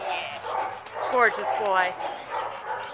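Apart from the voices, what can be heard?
dog barking at an animal shelter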